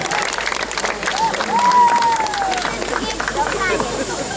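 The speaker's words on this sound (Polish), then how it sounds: "Wielkie brawa!" A crowd at a strongman competition's award ceremony in Chabówka applauds steadily while an announcer speaks over the clapping.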